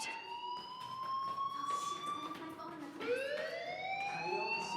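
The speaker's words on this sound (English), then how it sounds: "do you hear that fire alarm?" A school fire alarm in the video game Life Is Strange rings with a continuous electronic tone that rises and restarts, close and prominent with no talking over it.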